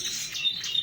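Small finches such as a black-headed siskin and other cage birds kept by a breeder give a steady run of high, thin chirps and tweets, moderately near and alone with no talk.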